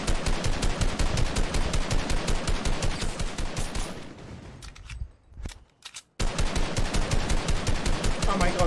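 Rapid automatic gunfire in the Fortnite video game, loud bursts of rhythmic shots that pause midway with scattered single shots, then resume heavily; voices talk faintly underneath.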